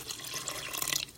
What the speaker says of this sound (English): So I'm going to add about half a cup of water